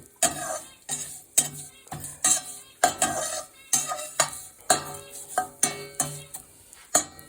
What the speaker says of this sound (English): I put a little bit oil, and I'm gonna add in there, and I will just stir a little bit